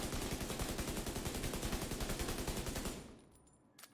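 Rapid full-auto MK16 rifle fire in The Division 2 video game, a fast even rhythm of loud close shots for about three seconds before stopping, followed by faint clinks.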